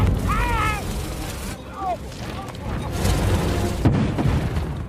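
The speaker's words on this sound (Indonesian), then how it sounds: "ada satu botol serbuk hitam jatuh mengenai api, yang mengakibatkan ledakan besar" Black powder spilled from a falling bottle ignites in a fire with a loud booming blast, followed by a rumbling roar and a second sharp burst, mixed with shouting voices.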